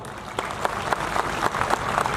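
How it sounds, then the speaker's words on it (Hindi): Audience of Buddhist devotees clapping at a rally, a dense, continuous burst of applause at moderate volume, with no voices over it. "आप जितनी मजबूती से ताली बजा रहे हो,"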